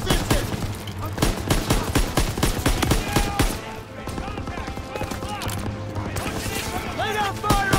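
Dense, sustained machine gun fire and overlapping gunshots in the WWII shooter Call of Duty WWII, loud and continuous with rapid bursts throughout, under battle noise and shouted voices.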